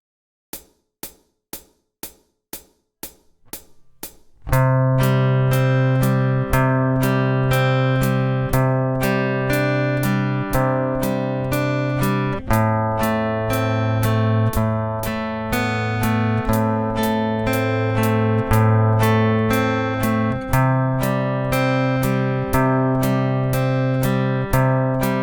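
Fingerpicked acoustic guitar plays two slow practice lines after a brief clicking count-in, with sustained plucked notes and steady tick accompaniment throughout.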